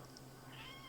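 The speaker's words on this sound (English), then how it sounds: "Meow." A house cat meows once, brief and faint, close by in a quiet room with a low background hum.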